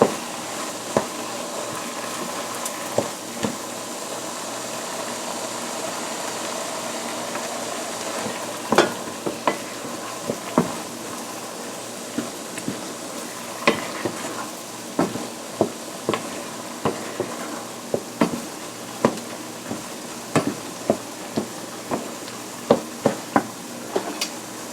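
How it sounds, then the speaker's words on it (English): Risotto being stirred in a pan as liquid is added, a soft steady simmer with intermittent clicks and scrapes of the spoon against the pot, close and fairly quiet, with no talking. "Every time the liquid gets down, you're going to add just a little bit more liquid and you just keep stirring."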